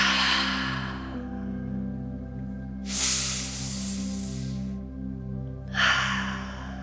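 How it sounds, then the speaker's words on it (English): Deep breathing during a restorative all-levels yoga session: two long, loud hissing breaths through the mouth, each lasting about two seconds, set over a steady low hum of background music. "Taking 3 more big inhales and exhales."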